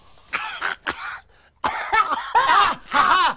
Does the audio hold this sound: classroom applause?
no